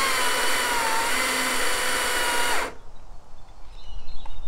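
Battery-powered STIHL MSA 220 C chainsaw running loud and steady for about two and a half seconds, cutting through wood, then cutting out abruptly into quiet handling noise.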